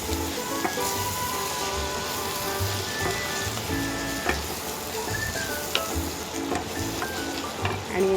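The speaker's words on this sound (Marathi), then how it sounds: "याच्यात आता हळद टाकली अर्धा चमचा आणि पुन्हा परतून घेते मी." Half a spoon of turmeric is sautéed in a hot pan for a vegetable bhaji, with a continuous close sizzle and light clicking stirs and no voices.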